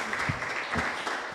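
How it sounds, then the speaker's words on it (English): A church hall audience claps for the keynote speaker at an International Youth Day event, a brief, steady burst of moderately loud applause. "give a hearty clap to our keynote address, Miss Jewel."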